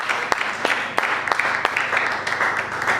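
A church congregation applauds during a worship service, making steady, dense clapping from many hands that stays even and fairly loud throughout, with a few sharper claps standing out and faint voices underneath.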